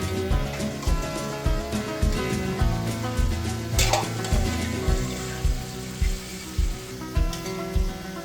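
Onions, tomatoes, green chillies and ginger-garlic paste frying in a pot, with a steady close sizzle broken by regular stirring scrapes roughly every second.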